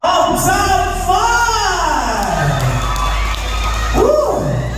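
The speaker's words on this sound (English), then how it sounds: "Let's give them another round of applause." A pageant crowd cheers, whoops and shouts loudly and continuously throughout, with a few voices rising above the steady roar.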